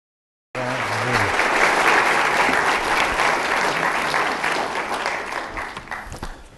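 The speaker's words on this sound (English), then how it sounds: "this is Michael's first trip to Notre Dame, so let's give him a round of applause" Lecture audience at Notre Dame applauding a visiting speaker, a loud, steady wall of clapping that swells quickly and holds for several seconds before slowly thinning out.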